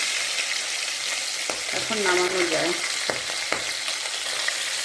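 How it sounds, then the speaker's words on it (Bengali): Fish frying in hot oil on a home stove, a steady bright sizzle with sputtering pops and a few sharp spatter cracks, while someone briefly speaks over it. "বাবা মাছ ফোটে ভীষণই"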